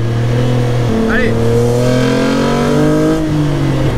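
Jannarelly Design-1 sports car engine revving loud and close, its pitch climbing steadily through a sustained acceleration, with a brief voice over the roar.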